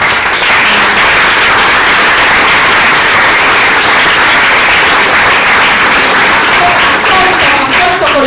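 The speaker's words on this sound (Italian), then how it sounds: "faccio con chiusura veramente un applauso al nostro artista" Sustained applause from a crowd at a women's breakfast event, dense and steady clapping filling the whole stretch at full loudness.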